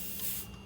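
A spray tank pump running steadily just after being switched on to purge the line, giving a continuous broadband hiss with a low hum underneath, close and alone.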